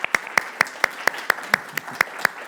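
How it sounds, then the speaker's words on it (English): A small group claps after a presentation at a sustainable food systems conference session. About a dozen sharp, evenly spaced claps sound close and distinct rather than blending into a crowd. "just waiting for the applause for the presentation"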